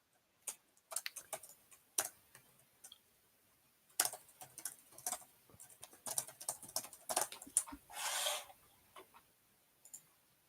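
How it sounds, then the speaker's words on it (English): Rapid, irregular clicking of fingers typing on a computer keyboard, in quiet bursts with short pauses, close and fairly soft, with no talking. "Typing ASMR."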